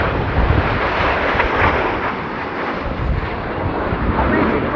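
Display aircraft crossing low at the RIAT air show, a loud, sustained jet roar with wind buffeting that swells and holds across the pass.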